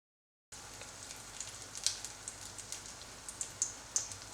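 Food sizzling in hot olive oil in a frying pan, a close steady crackle and hiss with sharp spitting pops scattered throughout, starting abruptly after a brief silence.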